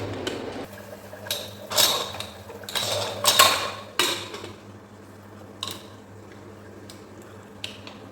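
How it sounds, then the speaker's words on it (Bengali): A metal pressure cooker lid is fitted and locked onto the pot with a handful of sharp clanks and clicks, grouped closely near the start, then fading into a few scattered light taps. "এবার মাংসটা ঢাকনাটা আটকিয়ে দেবো।"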